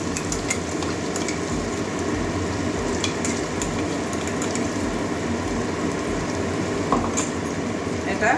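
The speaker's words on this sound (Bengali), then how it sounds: "এগুলো ভেজে নিচ্ছি কাঁচা গন্ধ যাওয়া পর্যন্ত ভেজে নেব" Chicken pieces fry in sesame oil in a pan with a dense, continuous sizzle, broken by occasional clinks and scrapes of a stirring utensil.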